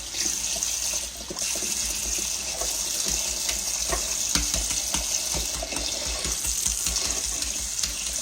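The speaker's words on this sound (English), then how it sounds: "And that cold water running over them." Cold tap water runs steadily over eggs for several seconds, a continuous splashing gush with small knocks and clicks of the eggs shifting in the stream.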